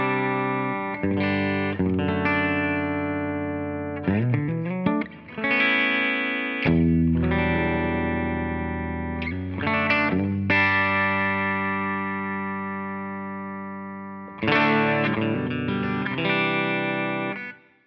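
Distorted electric guitar through a DV Mark Italian amplifier, playing sustained chords and short riffs with some reverb, loud and thick, with brief pauses between phrases.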